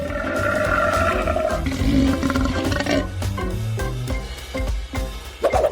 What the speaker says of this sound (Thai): นั่นเป็นเสียงคำรามที่น่าเกรงขามสุดๆเลย